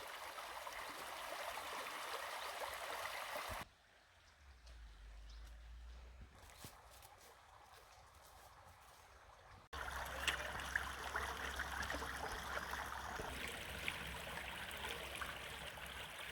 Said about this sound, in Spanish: se ve aquí la transparencia en esta pequeña olla con esas piedras, ¿no?, que hacen gorjear el agua